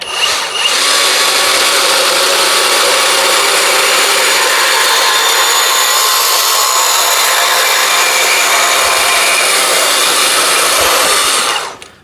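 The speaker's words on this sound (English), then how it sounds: "So we have a piece of exhaust pipe here. So let's cut through that." A VEVOR 20V cordless portable band saw slices through a length of exhaust pipe, a loud, steady whining grind of blade on metal that holds unbroken for about eleven seconds before cutting off.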